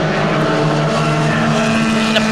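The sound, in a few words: Formula Vee race cars braking into a corner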